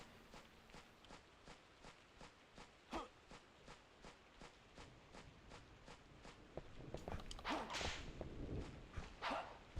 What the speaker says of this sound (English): It sounds like the Johnny Test whip crack.